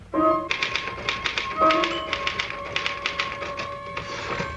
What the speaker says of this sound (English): Can I use the typewriter for a moment?